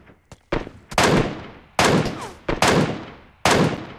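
Gunshots in PUBG Mobile, a handful of loud, sharp close reports with ringing decays, fired singly in quick irregular succession after a couple of faint clicks.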